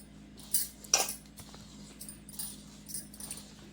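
A spoon clinks and scrapes against a bowl while mixing salt, chili powder and cumin, with several sharp metallic taps over a quiet background.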